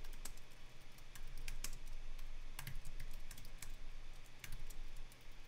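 Java code is typed on a computer keyboard in quick, uneven bursts of close, crisp key clicks over a low steady hum, with no talk.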